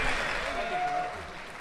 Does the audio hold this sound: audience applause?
yes